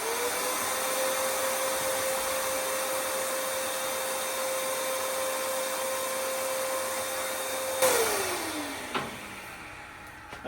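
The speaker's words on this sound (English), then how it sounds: "That's where this vacuum cleaner comes in handy, especially with this little brush." A vacuum cleaner fitted with a small brush sucks sanding dust off a sanded, sealed surface, droning steadily at close range for several seconds before winding down with a falling whine and a few knocks.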